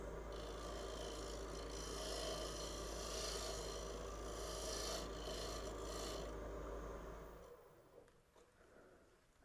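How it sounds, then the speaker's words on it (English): A round nose scraper cuts a spinning wooden box on a lathe, giving a steady, close rasping scrape that runs for several seconds and then stops abruptly. "Now come back with my round nose scraper to kind of blend that line at the bottom."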